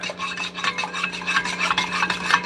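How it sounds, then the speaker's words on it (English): A spoon scrapes and rubs steadily inside a cup while creatine is stirred into hot water, a continuous rasping swirl with regular strokes, close and fairly loud, with no talking. "I also stir it while it's going because that"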